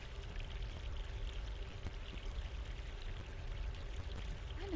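Stream water flowing steadily nearby in an outdoor scene, a continuous low rushing wash with no voices over it.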